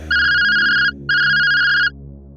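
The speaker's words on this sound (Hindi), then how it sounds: "सुरेखा का फोन आता है" A phone rings with two long electronic trills separated by a short gap, loud and close, over a faint low background hum.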